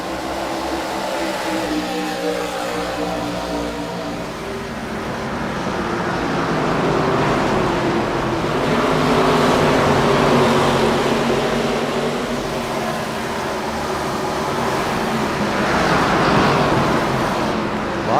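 ARCA race cars roar past on the Richmond oval, a dense continuous engine din that swells and fades as the field goes by, with no voices.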